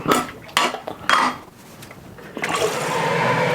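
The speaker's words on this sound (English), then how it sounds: "let me just fill that kettle up" A few clinks of kitchenware, then a steady rush of running water filling a kettle, close by.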